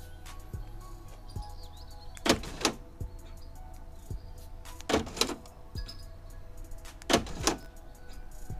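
Keyless entry door lock actuator on an Opel Calibra, bench-wired, firing in several short sharp mechanical buzzes a couple of seconds apart, each paired with small clicks, close up in a quiet space.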